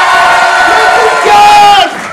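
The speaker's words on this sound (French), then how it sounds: "Le groupe 3, faites-moi du bruit!" Improv festival audience in Paris roars with loud, sustained cheering and shouting for about two seconds, a dense crowd of voices that cuts off abruptly near the end.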